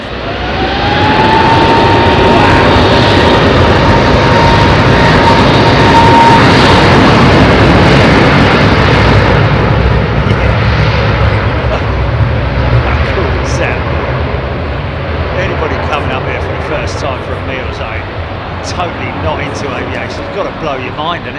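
A jet airliner departs London Heathrow Airport on a busy evening, its loud broadband roar building and holding steady for the full stretch before slowly easing, with people chatting nearby under the engine noise.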